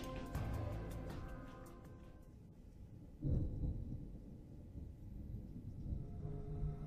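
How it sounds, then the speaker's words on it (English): Thunderstorm in the video game Zero Escape: Virtue's Last Reward, with a deep rolling thunder rumble swelling midway over a low steady backdrop of storm noise. "You hear the thunderstorms outside,"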